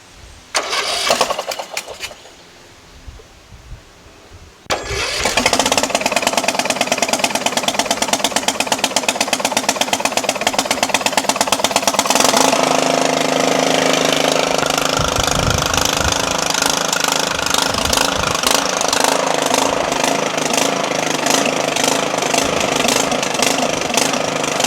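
A Craftsman 16.5HP LT1000 lawn tractor engine cranks briefly, falls quiet, then catches and runs loud and steady, settling into a rough, rapid idle that continues to the end.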